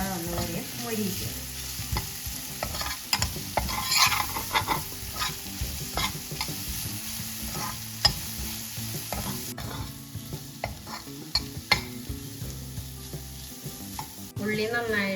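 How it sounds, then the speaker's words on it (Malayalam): Onions and curry leaves sauté in a pan for a Kerala dried prawn fry, a continuous loud sizzle broken by frequent scraping and clattering stirs. "സവാള നന്നായിട്ട് വാട്ടിയെടുക്കുക. ഈ സമയത്ത് നമുക്ക് കുറച്ച് കറിവേപ്പില ഇടാം."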